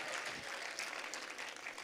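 Audience clapping in an auditorium during a poetry recital at a political gathering, a dense steady burst of applause from a crowd, fairly faint and distant, with no voices.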